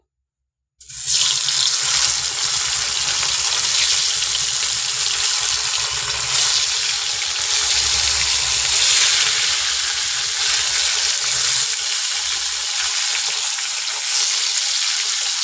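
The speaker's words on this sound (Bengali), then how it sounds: "তো মাছগুলো ভাজা হোক" A loud, steady hiss of fish frying in hot oil starts abruptly and continues without pause, sizzling and crackling close by with no voices.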